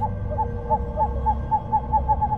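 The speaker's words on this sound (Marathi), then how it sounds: "खिडकीत ते तांबूस रंगाचे भले मोठे उघड घुबड बसले होते" A large reddish-brown owl hoots in a steady series of short, evenly spaced calls, loud and close, heard alone as a sound effect in a horror story.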